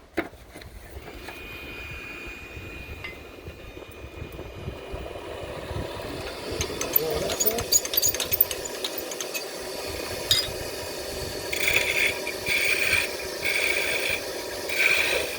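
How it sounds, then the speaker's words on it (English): A wood lathe spinning as a chatter tool works a spinning top, a steady whirring hum with rasping, scraping cuts and bursts of rapid, buzzing chatter toward the end, no talk. "And this is the chatter tool."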